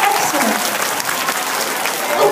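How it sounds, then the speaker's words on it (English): Children's audience applauding at a Hispanic Heritage Month school celebration, steady loud clapping from many small hands throughout, with a teacher's voice faintly mixed in. "Give yourselves a round of applause."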